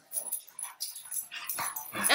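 Dog sounds in a PvP video game: short yips and whimpers in quick bursts, close and fairly loud over busy game noise.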